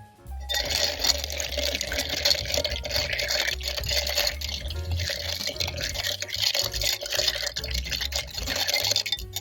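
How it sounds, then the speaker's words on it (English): An Old Grand-Dad bourbon old fashioned is stirred up close in a glass, a steady run of soft liquid swishing and light clinks with no talking. "we will stir"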